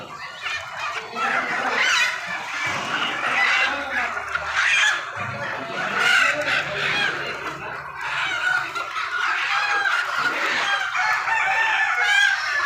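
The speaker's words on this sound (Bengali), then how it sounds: "এখানে অনেক সুন্দর সুন্দর মুরগি আছে দেশের বিভিন্ন জেলা থেকে দেশি মুরগি কালেক্ট করা হয়" Many native chickens clucking with roosters crowing repeatedly at a wholesale poultry market, a dense, loud flock sound with occasional voices in the background.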